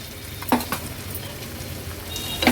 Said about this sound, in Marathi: वाटण तेलामध्ये छान परतून घ्यायचंय